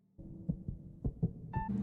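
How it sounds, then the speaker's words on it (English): Heartbeat sound effect from the anime Fullmetal Alchemist: Brotherhood, a few low muffled thumps in uneven succession over a soft hum, ending with a brief tonal swell. "Cause you gotta feel that heartbeat."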